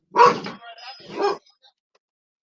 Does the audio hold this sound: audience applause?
no